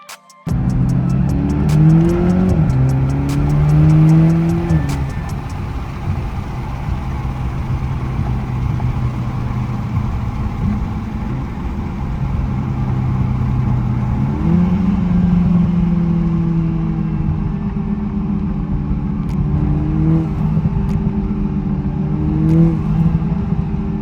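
A big single-turbo Toyota Supra engine pulls hard and loud from inside the moving car, revving through the gears in rising sweeps with brief dips at each shift, then climbing again to high RPM.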